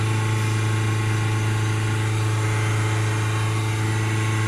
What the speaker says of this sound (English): Tone of the engine's changing. Hold the revs back up a little bit.